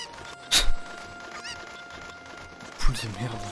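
A chicken in Zelda Ocarina of Time squawks in two short bursts, a loud cluck near the start and another about two seconds later, over a faint game background hum.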